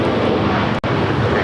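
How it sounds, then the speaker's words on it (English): Airliner bound for Tampa rolling for takeoff on runway 25 right at LAX, a loud continuous engine roar with wind rumble, steady and close, no speech. "The flight heading to Tampa, Florida, now rolling down at 25 right"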